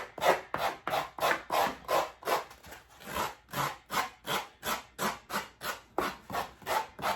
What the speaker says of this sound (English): I can take a rasp like this and just rasp out any of my cut lines to smooth it a little